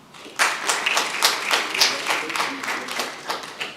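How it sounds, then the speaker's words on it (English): Audience applause at a school board meeting honoring dance team captains, a burst of clapping from a modest crowd with distinct individual claps, steady for several seconds. "let's give a big round of applause to the Silhouettes Dance Team captains, Yasmin Alba,"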